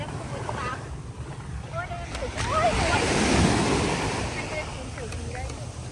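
Ocean surf rolls onto the shore at Ky Co beach in Vietnam, swelling in the middle, with gusty wind buffeting the microphone and people talking over it.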